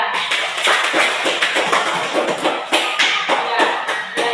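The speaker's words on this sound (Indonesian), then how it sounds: "tepuk tangan dulu untuk Olivia" Classroom of students applauding a classmate during a civics lesson, a dense burst of many hands clapping together in a lively, uneven rhythm, close and fairly loud.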